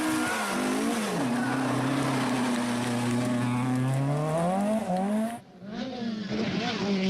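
Rally cars race past at close range, engines revving hard with rising and falling pitch as they pass by, loud and continuous with a brief drop-off before another car approaches.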